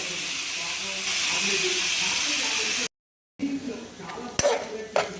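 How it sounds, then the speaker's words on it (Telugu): Boiled carrots fry in coconut oil with a steady, loud hiss and sizzle that runs unbroken, drops out briefly, then returns more softly with a few sharp clinks of stirring. "క్యారెట్ ఇలా ఫ్రై చేసేస్తాను"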